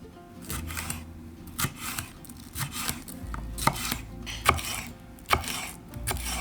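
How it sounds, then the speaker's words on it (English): A knife slices a red pepper into strips on a cutting board, giving sharp, close chops in an uneven rhythm, with roughly a dozen distinct strikes over a quiet background. "Now we can roll it out and cut it in little strips"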